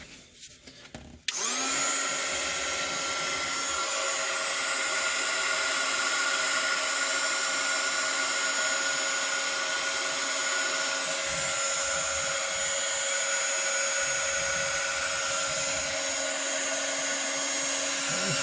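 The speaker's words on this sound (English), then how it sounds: "Be careful what you got downwind of the heat gun." A heat gun, used while restoring a Leslie Model 25, switches on with a sudden click and then blows hot air in a loud, steady whirring hiss. The sound holds constant and close.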